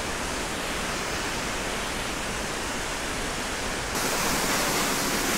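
Powerful waterfall roaring up close, heard while walking behind the falls near Lauterbrunnen, Switzerland, a constant heavy wash of water that grows slightly brighter and louder near the end.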